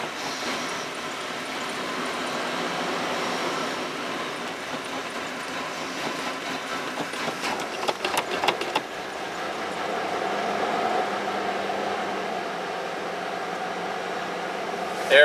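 A 1995 Cadillac Fleetwood Brougham idling rough on a cold start, a steady low engine rumble with a rattling, uneven stretch partway through, heard from nearby with faint talk.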